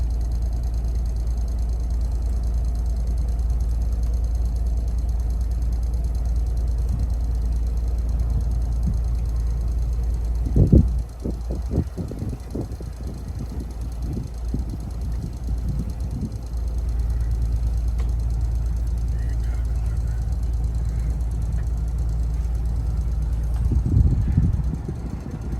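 A 1977 Cheoy Lee LRC boat engine drones low and steady throughout, with a burst of knocking and clatter in the middle and another near the end.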